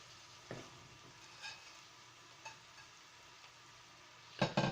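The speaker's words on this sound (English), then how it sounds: "Now we are stirring and mixing everything together." Bottle gourd leaves and shing fish curry, a Bangladeshi dish, are stirred in a pan: faint, quiet sizzling broken by a few spaced scrapes, with a louder clatter of utensil on pan near the end.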